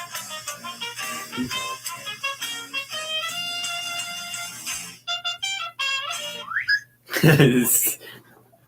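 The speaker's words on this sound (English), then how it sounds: "There's a slide whistle in it." A slide whistle glides upward over a busy, harmonically rich song, one quick rising sweep late in the passage, with voices singing or talking through the music.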